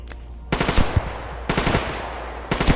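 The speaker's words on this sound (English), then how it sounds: "They're shooting back, though." Machine gun fire in the video game Stalker GAMMA comes in three short, loud rattling bursts about a second apart, sharp and close, with near silence between them.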